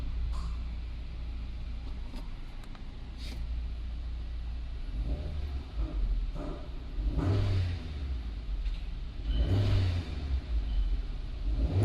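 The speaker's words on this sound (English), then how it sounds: "I just rev the engine while it's in the idle position" A car with a lack of power and long cranking time, fault code P0340, revs up in short rising bursts from idle while parked, with a low engine rumble between pushes of the throttle.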